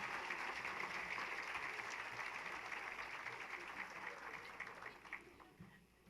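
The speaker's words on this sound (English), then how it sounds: "Another round of applause, please." Faint applause from a banquet audience for an elementary school drum group, continuous clapping that holds steady, then tapers off toward the end.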